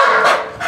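A Belgian Malinois guard dog in protection training gives two quick, loud, close barks in succession, with no talking over them.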